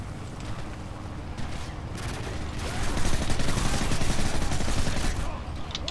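Dense, continuous gunfire in Call of Duty Modern Warfare 3, set in London, with rapid overlapping shots that swell louder midway and stay heavy throughout, up close with no pauses.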